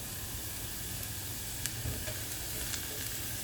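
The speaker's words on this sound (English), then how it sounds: "You can see now it's just starting to brown on the bottom of the pan." Food browns on the bottom of a pan for a red wine sauce, a soft, steady sizzle with occasional small pops and crackles, fairly faint and close, with no talking.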